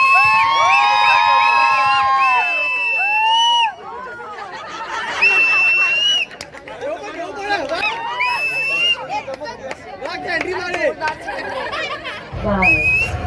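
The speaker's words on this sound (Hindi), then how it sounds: "चलिए जोरदार तालियों के साथ इस खूबसूरत सी जोड़ी का स्वागत कीजिए।" Guests at an Indian sangeet ceremony cheer and whistle to welcome a couple, a lively mix of shouts, whoops and crowd chatter, loud at first and then easing into excited babble.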